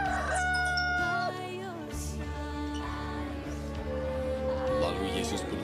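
Rooster crowing over a sustained musical backing with harmonic tones, the crow blending into layered music at moderate loudness.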